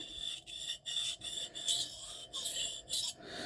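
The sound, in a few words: knife sharpening passes on a stone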